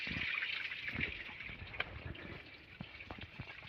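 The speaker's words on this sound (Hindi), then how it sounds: "इसमें पानी टकराता है और ये गोल घूमता है" Water trickles and splashes against a small water wheel beside a wheat field, a soft continuous flowing sound with occasional drips and light knocks, fairly close.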